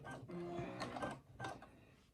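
Brother SE1900 computerized sewing machine running a stitch pattern, giving a close mechanical whirring and rapid needle clatter in a few short bursts with brief pauses between.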